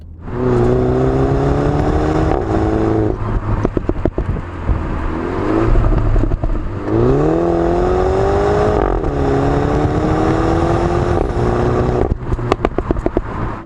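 A 2019 MINI John Cooper Works Countryman All4 engine revs hard and pulls up through the gears, its loud, close drone rising in pitch, dropping at each shift, then climbing again.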